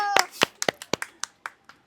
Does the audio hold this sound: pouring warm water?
no